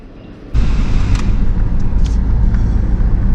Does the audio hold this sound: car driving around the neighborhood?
yes